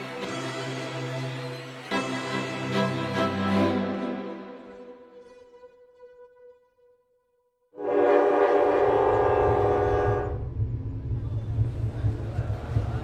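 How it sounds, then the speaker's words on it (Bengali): The Darjeeling Mail passenger train, staged as a radio-drama effect, gives a loud horn blast over rolling wheels, falls quiet briefly, then returns with another horn and steady rumbling carriages. Speech also runs through it. "কলকাতা থেকে দার্জিলিং মেল ছেড়েছে কাল রাতে"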